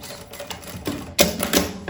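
A home sewing machine stitches a few short bursts through a folded quilted puffer tote bag, the whirring runs growing louder and denser toward the end, with no talking.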